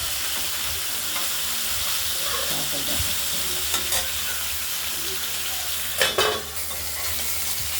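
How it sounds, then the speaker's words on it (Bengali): Continuous sizzling of rohu fish pieces frying in hot oil, close and steady, with occasional crackles and a louder spattering burst near the end. "মাছটা ভাজা হোক"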